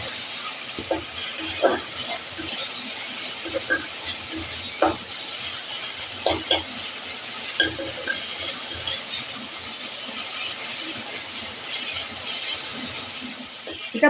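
Vegetables, ginger and spices for a vegetable dal fry and get stirred in a pan, with a steady close sizzle and scattered scraping clicks of the spoon against the pan throughout.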